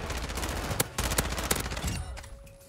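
Rapid bursts of gunfire from an ISO 45 submachine gun in Warzone 2, several sharp cracking shots in quick succession, loud and close, fading into a lingering ringing tail.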